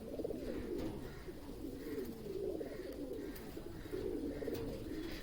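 Fulsiya Madrasi pigeons coo softly nearby in repeated low, rolling phrases about a second apart, overlapping in a gentle, continuous murmur.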